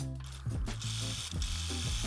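A sewing machine stitching a rope basket bag, running in quick rhythmic bursts with a whirring motor hum and repeating mechanical clatter, close and fairly loud.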